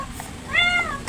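A single short domestic cat meow rises and falls close by over a quiet room hum.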